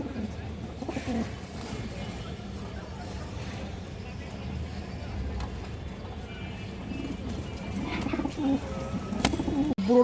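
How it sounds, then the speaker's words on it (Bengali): Soft, continuous cooing of several pigeons close by, with someone talking over it and a few flutters near the end. "এই কবুতরগুলো"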